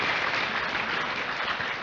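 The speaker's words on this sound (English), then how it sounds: "Give a big round of applause for all speakers" Applause for the speakers and moderator of a campus panel discussion, a short, dense and steady clatter of many hands with no talking over it.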